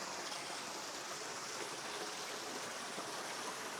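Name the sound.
mountain spring stream forming a small waterfall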